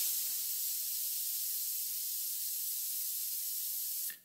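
A pressure cooker cooking mutton vents steam in a loud, steady hiss that holds at an even level for about four seconds, then cuts off abruptly, with no voices over it.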